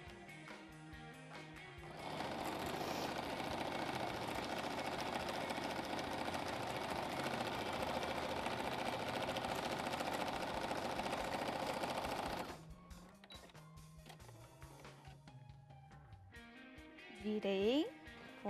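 A sewing machine stitches fabric lining in a steady, loud whirring run of rapid needle strokes for about ten seconds, then stops, followed by quieter handling noises and a brief speaking voice.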